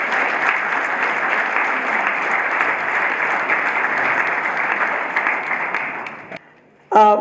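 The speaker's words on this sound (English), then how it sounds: "Give her a big round of applause." An audience at a 2014 unveiling ceremony breaks into a long, loud, dense round of applause that fades out near the end, followed by a brief burst of sound.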